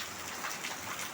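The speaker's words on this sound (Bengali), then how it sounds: "তাই তো, খুব জোরে বৃষ্টি হচ্ছে।" Heavy rain pours down in a steady, dense hiss of drops striking a surface, continuous and even, with no voices.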